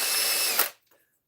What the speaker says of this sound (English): we still have a bit of a ways to drill out